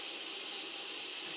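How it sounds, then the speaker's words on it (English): Steady, close hiss of air escaping from a leaking old Porter-Cable pancake air compressor, continuous and unbroken with no voices. "Does your old pancake air compressor sound like it's having an air leak somewhere in this area?"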